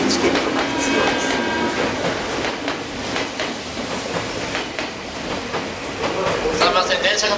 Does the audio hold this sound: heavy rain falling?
no